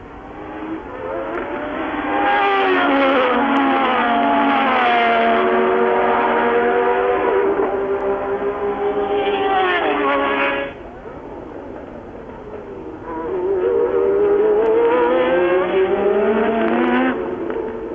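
1982 San Marino Grand Prix Formula 1 cars, Ferraris among them, screaming past in loud, high-revving passes that rise and fall in pitch, with a brief lull between two long engine howls.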